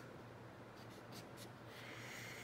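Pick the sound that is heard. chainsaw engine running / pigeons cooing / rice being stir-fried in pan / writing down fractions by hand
writing down fractions by hand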